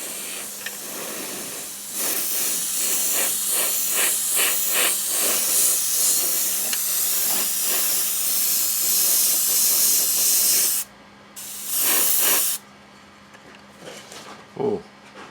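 An airbrush sprays paint onto a model car body with a steady close hiss that runs about nine seconds. It stops briefly, gives another short burst, then falls quiet except for a few faint handling clicks.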